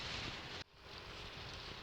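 Strong wind roars steadily across an open microphone while riding a motorcycle on a road in the Philippines, a loud broadband rush that drops out for an instant and then resumes.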